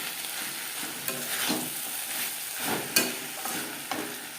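Spring onion stalks are stirred with spices in a pan for a fish curry. Soft frying hiss sits beneath a series of rhythmic scraping strokes, with a few sharper knocks of the spatula, close up and without speech.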